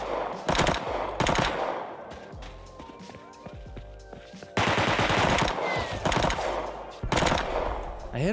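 Rapid bursts of automatic gunfire in the survival video game Rust, loud and close, firing in several sustained volleys with brief pauses between them.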